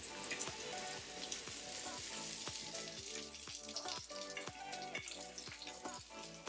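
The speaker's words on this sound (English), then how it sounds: "Give it a fry until they're crispy and golden brown and delicious" Breaded chicken frying in hot oil until crispy, giving a steady crackling sizzle with dense popping bubbles throughout, moderately close and alone without voices.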